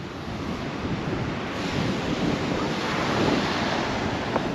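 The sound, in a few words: sea waves at Anjuna beach, Goa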